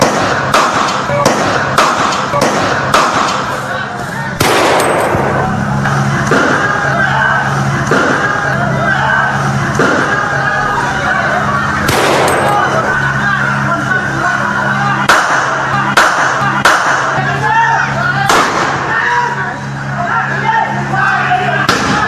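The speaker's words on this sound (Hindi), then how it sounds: "मथुरा में दो गुटों में गोली चल" Gunfire exchanged between two groups in Mathura, sharp cracks and bangs scattered irregularly through a continuous noisy background, with crowd noise and some voices under the shots.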